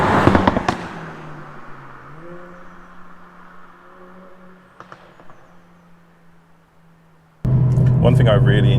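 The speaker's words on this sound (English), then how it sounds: "when you slow down and it goes down the gears, it's so aggressive on the downshifts" Mercedes CLA45s AMG with an aftermarket exhaust, crackling and popping in short bursts as it drops through the gears, over a steady engine drone, before a louder surge of engine and road noise.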